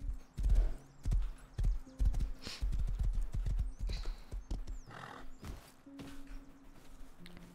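Horse hooves clip-clop in a quick, uneven run in the video game Rust, loud and close, and a whinny breaks in near the end. No voice is heard.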